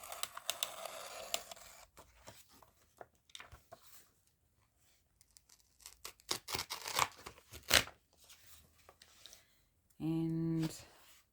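Scissors trimming an old business card holder, several quick crisp cuts and scraping snips scattered between pauses, close and fairly quiet, followed by a brief voice near the end.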